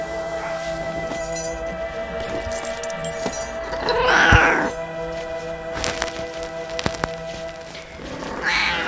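A cat in heat meows indoors, with a few close, drawn-out cries spread across the clip, over a constant background hum and occasional light clinks and taps.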